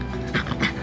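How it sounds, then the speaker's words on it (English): A young female puppy making soft yips and panting close by, two short bright vocal bursts over a breathy background. "There it is. Bark."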